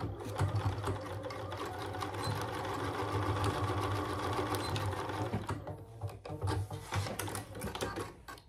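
A sewing machine runs steadily, basting fabric in place for a bag hardware case, its fast mechanical stitching chatter close and clear, then slowing into short, uneven bursts near the end.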